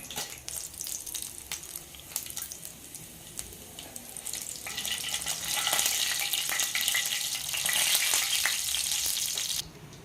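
Dried red chillies fry in a hot pan with a steady, crackling sizzle that swells louder and brighter midway and holds until a sudden drop near the end, with no voices.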